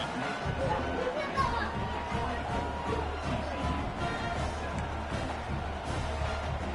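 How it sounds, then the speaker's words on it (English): A football stadium crowd buzzes after a touchdown in a TCU versus Baylor game, a dense, steady roar of distant chatter and babble with no single voice standing out. "this crowd is buzzing after that last score"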